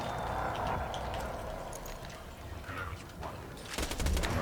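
Hyperion SMG in Borderlands firing rapid bursts of gunfire over dense game sound and music, loudest near the end, with no talk.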